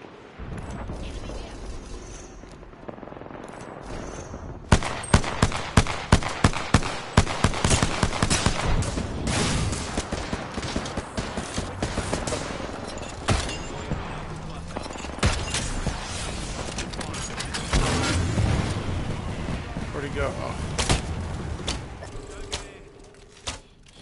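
Gunfire in the Apex Legends battle royale game: rapid bursts of shots with sharp repeated cracks, loud and near, stopping and starting over about twenty seconds amid mechanical clatter and game noise.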